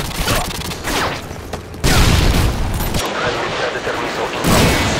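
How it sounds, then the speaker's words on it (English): Predator missile strike in Modern Warfare 2, with loud booming blasts and rumbling explosions layered over battlefield noise, heavy low impacts surging and ebbing across a few seconds. "Predator missile is ready for deployment"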